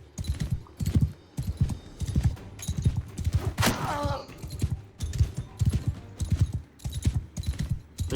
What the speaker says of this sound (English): horse already is moving a little bit faster, just with the little bit of experience we've got so far